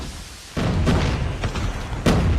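A frag grenade detonating in Call of Duty Mobile during a world championship esports match, a sudden loud muffled boom followed by rumbling thuds and a second burst near the end.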